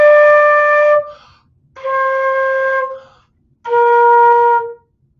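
Three separate sustained flute notes, each about a second long, with short silent gaps between them where the player pauses.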